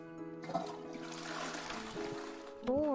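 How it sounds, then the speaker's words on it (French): Tap water pours and trickles steadily in the Staxel video game, a soft continuous wash heard over melodic background game music. "On peut faire couler l'eau."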